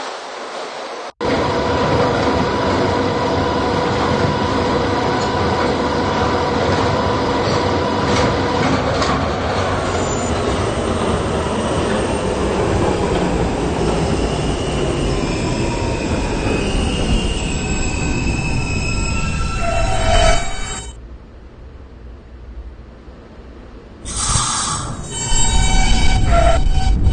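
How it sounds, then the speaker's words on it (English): A New York City subway R160B-1 B train bound for Herald Square runs with a loud, close rumble and screeching wheel squeal, then goes quiet for a few seconds before the noise resumes. "This is a Herald Square bound B train."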